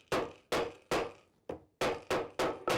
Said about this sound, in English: then we're going to pound it with a ball peen hammer